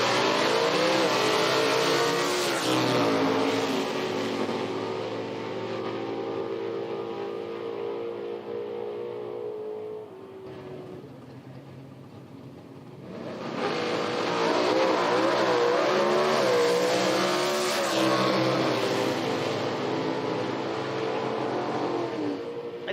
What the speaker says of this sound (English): It went for a ride as the race car goes out the back